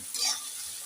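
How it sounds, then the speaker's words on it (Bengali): Spatula stirring a fish and pumpkin bori curry in a pan, one short scraping swish over a soft sizzle, close and brief with no talk. "আমি ঢাকনিটা তুলে আবার একটু নাড়াচাড়া করে দিচ্ছি"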